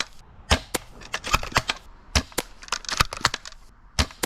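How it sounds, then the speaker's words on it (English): Sharp cracks and snaps from an airsoft VSR-10 sniper rifle fired as a test shot at a target, a dozen or so crisp transient clicks and impacts scattered irregularly, close and fairly loud with no talk. "Let's do one test shot on the target."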